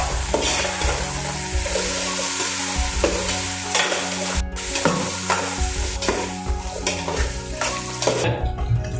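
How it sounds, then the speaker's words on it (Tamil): Crab curry with brinjal and drumstick being stirred in a pan, with rhythmic spatula scrapes and clatter over a constant loud sizzle, close up and without speech. "எல்லாத்தையும் சேர்த்து நல்லா மிக்ஸ் பண்ணிக்கலாம்"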